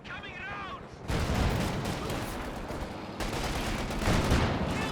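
In Company of Heroes 2, a mine goes off under a Kubelwagen amid a heavy, continuous wash of battle noise and rumbling blasts, with someone commentating over it.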